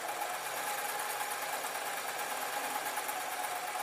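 A sewing machine stitches a pillow case in a steady, continuous high whirring hum that stays even throughout, close by and with no voices.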